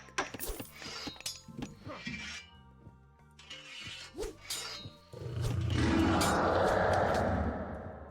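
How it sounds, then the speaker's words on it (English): Nemean Lion roar from Age of Mythology, a sustained, loud, rumbling growl that swells in and holds steady near the end, following a stretch of game sound effects and clinks. "Nemean Lion roar is so good"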